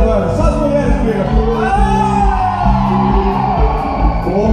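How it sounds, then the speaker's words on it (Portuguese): Loud, dense crowd shouting and whooping at a live concert, with high voices of women in the audience yelling continuously and overlapping throughout. "Só as mulheres gritando para ver se ele acorda."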